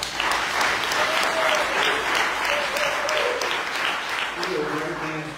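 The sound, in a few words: audience applause at chamber event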